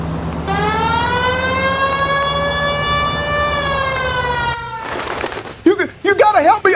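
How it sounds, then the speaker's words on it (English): A police car siren in the video game L.A. Noire wails steadily and loudly for several seconds, then cuts off as other game sounds and warbling tones follow. "The siren, Cole. Use it."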